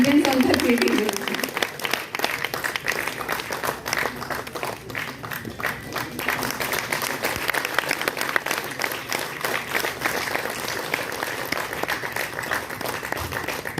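Audience applause at the News7 Odia news channel's seventh anniversary event, sustained dense clapping from a large hall crowd that carries on steadily throughout, with a voice briefly speaking at the start.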